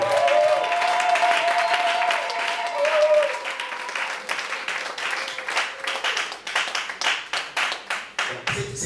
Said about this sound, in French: Est-ce que tu peux m'encourager en applaudissant?